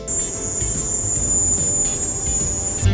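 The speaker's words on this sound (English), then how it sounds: "Scientists say the sounds were crickets." Crickets chirping in a steady, persistent high-pitched drone, the sound once blamed for the Havana syndrome, recorded at constant loudness throughout.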